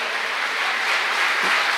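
Warm applause from a church convention audience welcoming a pastor, a steady dense wash of clapping with no voices, held at an even level throughout.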